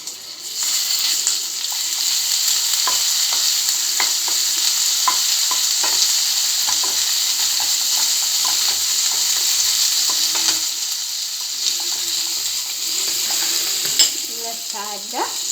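Ginger garlic paste sizzles and fries in melted butter in a pan while a utensil stirs it, giving a steady broadband hiss with scattered scraping clicks and taps throughout, close and fairly loud, with no talking.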